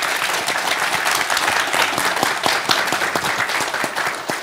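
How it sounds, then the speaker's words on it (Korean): An auditorium audience at a KAIST university talk on the future of AI claps for the chairman and the university president, a loud, dense, sustained burst of applause with no voices. "우리 회장님하고 총장님께 큰 박수 부탁드리겠습니다"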